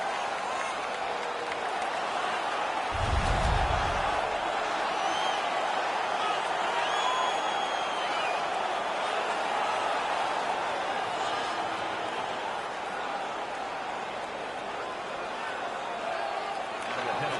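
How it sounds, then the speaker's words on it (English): Arena crowd noise from an NHL 19 hockey game, Vegas Golden Knights against Ottawa Senators, a steady broad roar of fans that rises after a fight and holds throughout, with a low thump early on and commentary-like talk faintly mixed in. "The crowd is now back in it."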